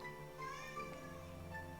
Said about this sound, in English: There goes my cat, yelling at me again.